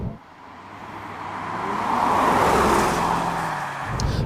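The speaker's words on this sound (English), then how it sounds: "from inside the cockpit all you get is that supercharger whine" Supercharged 4.2-litre V8 of a 2002 Jaguar S-Type R heard from inside the cabin, a steady engine drone with a high whine that swells as revs climb, loud and continuous with no talk.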